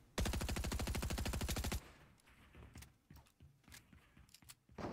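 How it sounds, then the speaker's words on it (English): Rapid automatic gunfire in Fortnite rattles loud and close in one sustained burst of about a second and a half, then gives way to scattered fainter shots and clatter at a distance. "What is he shooting at?"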